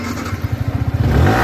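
A motorcycle engine runs close by, its exhaust pulsing in a rapid, even throb that briefly rises in pitch toward the end, loud and alone.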